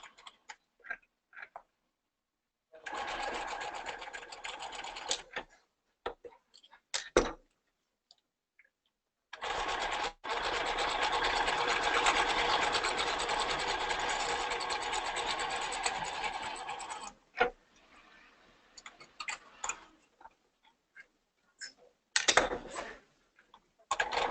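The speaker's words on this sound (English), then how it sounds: "So we're just serging wherever there's edges that have the brocade." A serger sews along the edges of brocade fabric in two long bursts of rapid, steady mechanical whirring, with short stop-start runs and clicks between them, close and moderately loud.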